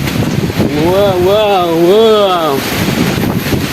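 Strong wind roars steadily across a phone microphone in Gunungkidul, a loud continuous rush with buffeting, while a man exclaims in a drawn-out, wavering voice over it.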